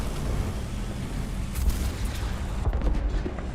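A tank shell explodes in the War Thunder combat game, with a Leopard 2A5 tank involved: continuous low rumbling battle noise broken by two loud broadband blasts, the second followed by a cluster of sharp cracks, no speech.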